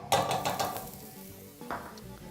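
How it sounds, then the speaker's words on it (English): Unsalted butter hitting a hot pan, with a burst of sizzle and metallic pan scraping that fades, then a second brief clatter and sizzle, close and without talk. "into a hot pan, we're going to be adding a bit of some unsalted butter"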